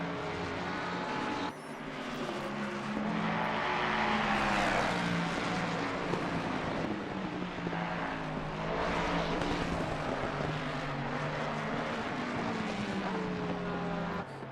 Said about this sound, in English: we do see the number, I believe that's the 29 Ferrari leaving the pit lane